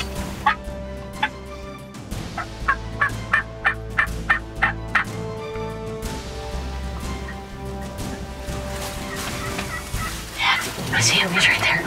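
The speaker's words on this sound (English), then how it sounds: "We just had a bird gobble behind us." Wild turkeys gobble outdoors near timber, with rapid rattling gobbles repeating in bursts at moderate distance, one carrying loudly over a steady background of other birds and ambient noise.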